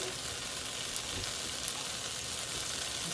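Onions sauté in a hot pan, making a steady, even sizzle throughout at a moderate level, with no voices over it.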